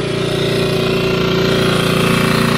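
A Hangkai 6.5hp outboard motor idles in neutral, a steady close, loud rapid putter with an even pulsing rhythm throughout and no talking.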